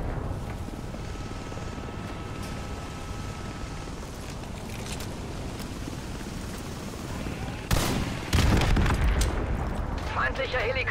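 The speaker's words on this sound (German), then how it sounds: "Feindlicher Helikopter neutralisiert!" Enemy helicopter and gunfire in the Modern Warfare 2 Remastered video game: a steady, dense roar of rotor and combat noise throughout, swelling into heavy bursts of fire and explosions near the end, with game voices mixed in.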